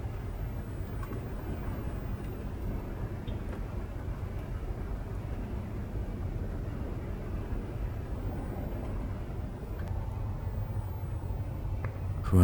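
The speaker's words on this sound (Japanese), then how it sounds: "ものすごい暴風雨です。" Heavy typhoon rain and strong wind batter a car with someone sleeping inside at night, a steady low roar of rushing wind and drumming rain, unbroken and muffled by the body of the car, with no voices.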